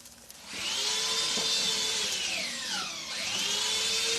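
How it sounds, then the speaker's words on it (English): A power drill bores through a floor to run an internet line, a steady loud whir with shifting pitch that runs continuously for several seconds after a brief quiet start. "It's got to drill through the floor."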